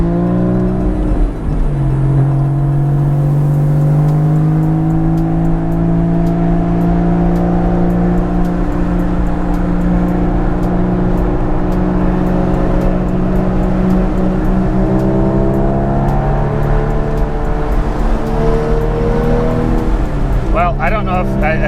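Modded Porsche 987.2 with a COBB Accessport accelerating from 0 to 60, heard from inside as a loud engine drone climbing in pitch through several gear changes, with a voice talking over it throughout.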